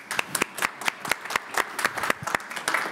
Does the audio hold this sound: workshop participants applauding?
yes